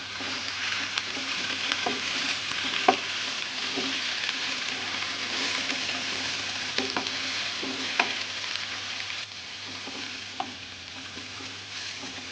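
Pak choy being stir-fried in a pan, a steady close sizzle broken by repeated scraping and clinking strokes of a utensil, with no voices.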